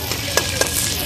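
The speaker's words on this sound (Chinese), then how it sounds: "爆爆香啊，爆爆葱，爆爆蒜瓣" Scallions and garlic stir-fried in a hot wok at a Shandong market food stall, making a loud, continuous hissing sizzle punctuated by two quick scraping clanks of the spatula.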